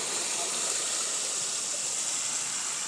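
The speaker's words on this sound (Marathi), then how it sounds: "आता वरती एक धबधबा" A waterfall in full flow after the first monsoon rain in May, heard as a dense, even, broadband rush that fills the scene without pause, loud and close, with no clear voices over it.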